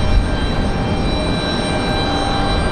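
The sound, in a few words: Republic Airways Embraer E175LR jet airliner at RDU airport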